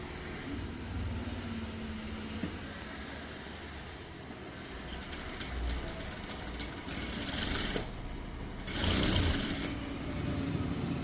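A sewing machine runs while stitching a small baby dress, a steady mechanical whir with rising bursts of faster stitching, close and continuous with no talk.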